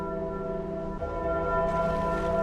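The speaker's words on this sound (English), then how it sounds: "The bell tolls for us." Church bell tolling in the video game Sky: Children of the Light, a sustained ringing tone with a rich, even hum of overtones, then a fresh strike about a second in, loud and alone.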